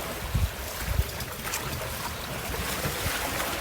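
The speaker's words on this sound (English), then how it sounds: "Here's some good waves coming" Ocean waves rolling past a small boat with a motor at sea, a continuous rushing wash with a couple of thumping surges early on, heavy wind buffeting the microphone throughout.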